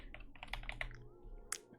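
Typing on a new computer keyboard with smooth, creamy-sounding keys: a quick run of soft, close clicks at a steady pace, then a pause and one sharper keystroke near the end.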